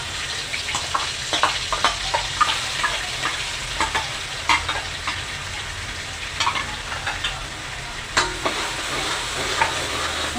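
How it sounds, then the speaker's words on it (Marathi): Ground Malvani masala paste frying in hot oil for a chicken gravy, a steady crackling sizzle with repeated sharp stirring scrapes and clicks at close range, no voices. "तेल तापलेलं आहे त्यात वाटप घाला"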